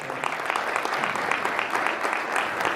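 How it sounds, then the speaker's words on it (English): A crowd claps steadily, a dense patter of many hands applauding at an even level from start to finish. "Give a round of applause."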